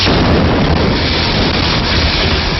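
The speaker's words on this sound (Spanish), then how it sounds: "ustedes pueden observar cómo acaba de caer un cohete cerca del Palacio de Miraflores" A rocket blast near Miraflores Palace in Venezuela, heard as a loud, continuous roar of broadband explosive noise that fills the whole stretch with no quiet gaps.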